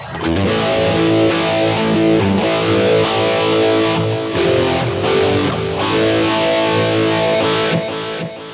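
A distorted electric guitar plays a sustained 1970s-style lead line with picked notes through a BOSS eBand JS-1, dry and upfront with no echo or reverb tail.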